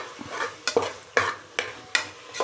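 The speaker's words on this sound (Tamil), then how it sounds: "அந்த அளவுக்கு நல்லா இதை வதக்கிக்கலாம்" Tomatoes sautéing in a pan for tomato rice are stirred in regular scraping strokes, about five sharp spoon scrapes over a steady low sizzle, close and clear with no talking.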